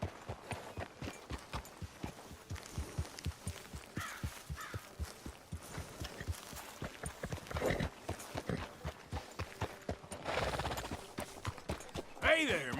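Horse hooves clip-clopping at a walk in Red Dead Redemption 2, an even, close series of soft clops lasting the whole stretch, with occasional crow caws and brief voices nearby.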